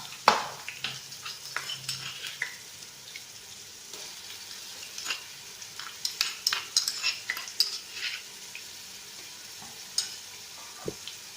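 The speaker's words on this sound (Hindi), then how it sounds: "अब इसमें लहसुन अदरक का पेस्ट डालूंगी।" Garlic ginger paste fries with browned onions in a pan and is stirred with a spatula, a soft steady sizzle broken by irregular scraping and clinking knocks against the metal, close and without talk.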